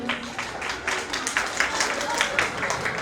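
Audience clapping at a kindergarten Mother's Day show as small children dressed as cowboys are invited onto the stage, a steady wash of applause with regular clap peaks throughout.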